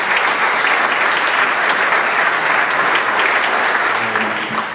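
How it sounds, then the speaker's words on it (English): Sustained audience applause at a school ribbon cutting ceremony for Winthrop Middle High School, a dense, steady wash of many hands clapping close by for nearly five seconds without a break. "I think they all really deserve a round of applause for getting through that period"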